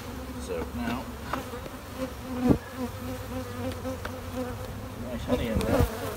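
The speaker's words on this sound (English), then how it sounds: "So, get the bees off it." Honey bees buzz continuously around an open hive during a beginners' hive inspection, a close, steady droning hum with occasional louder passes of individual bees near the microphone.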